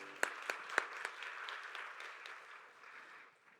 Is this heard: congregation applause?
yes